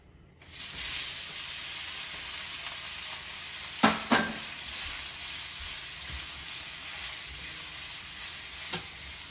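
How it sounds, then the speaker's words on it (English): Tofu sears in a hot pan in a steady, close sizzle, broken twice around the middle by sharp clatters of stirring or utensil knocks, with the frying hiss continuing evenly after. "drop the tofu in, really get a nice sear on it, coat the outside"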